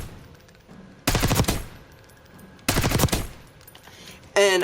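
XM4 rifle firing in a Call of Duty Black Ops 6 firing range: two sharp rapid bursts of automatic gunfire separated by quiet, followed by a brief clattering burst at the end, loud and close.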